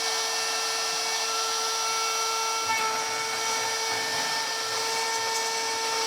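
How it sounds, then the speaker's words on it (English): A CNC router cuts flat wood stock into four-inch squares for a waterwheel build, a steady high-pitched whine with strong tonal overtones that holds throughout, with no talk over it. "we need to cut some flat. So we're going to cut some out, some squares at 4 inches and 7/8"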